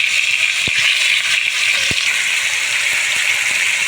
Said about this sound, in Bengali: আলুগুলো ও টমেটো ভালো করে আমি ভাজিয়ে দেবো।